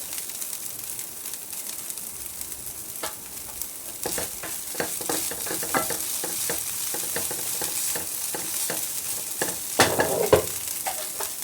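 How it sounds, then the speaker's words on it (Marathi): Poha being stirred and mixed in a pan for batata poha, with steady scraping and stirring strokes over a soft continuous sizzle, a few sharper clinks near the end. "पोहे घालायचे सर्व हलवून घ्यायचं मिक्स करून घ्यायचं"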